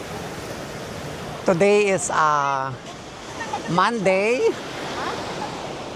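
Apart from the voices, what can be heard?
sea waves at Monterosso, Cinque Terre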